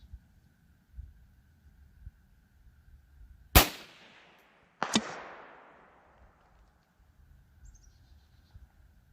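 Two sharp rifle cracks from a .22 WMR Rossi RS22M, fired at long range, land about a second apart, each with a short decaying echo over quiet outdoor background with faint bird calls.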